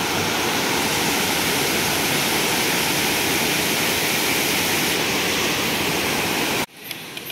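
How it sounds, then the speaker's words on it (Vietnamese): A large forest stream pours down in a loud, steady, close roar of rushing water that cuts off abruptly near the end, in Dong Nai. "Thấy nước đổ."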